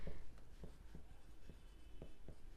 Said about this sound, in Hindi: तो ये जो इक्वेशन नंबर 2 है ना इसे हम यहाँ पर लिखते हैं।